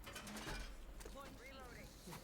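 A wall being reinforced in Rainbow Six Siege: a brief mechanical ratcheting clatter under voices and game noise.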